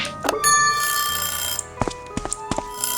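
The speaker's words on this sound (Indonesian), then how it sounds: "aku harus menghentikan suara dering yang nyaring itu" A loud, continuous ringing alarm from the video game A Space for the Unbound, with sharp repeated clicks near the end.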